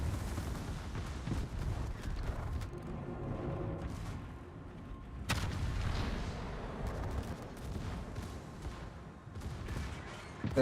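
Warship turret guns in World of Warships fire as heavy, booming salvos, with one sharp blast near the midpoint over a low rumbling battle bed and scattered distant shots.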